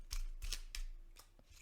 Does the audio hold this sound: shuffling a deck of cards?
yes